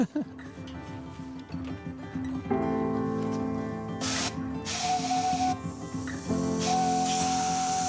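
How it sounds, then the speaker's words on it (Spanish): A steam locomotive's escaping steam gives loud hissing bursts over a low mechanical hum and tonal ringing, with people talking in the background. "transforma el agua en vapor. ¿Y eso impulsa la locomotora?"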